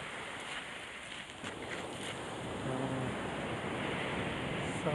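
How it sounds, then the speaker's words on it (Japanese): High ocean waves break on a surf beach in winter, a continuous broad roar of surf with some wind across the microphone, steady and fairly loud, with no talking. "結構今日は波が高いですね。"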